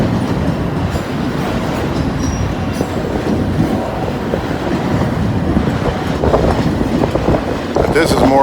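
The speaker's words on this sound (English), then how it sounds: "I see some box cars coming now." A long mixed freight train with box cars rolls past, with a continuous loud rumble and clatter of wheels, some faint squeals, and a voice talking underneath.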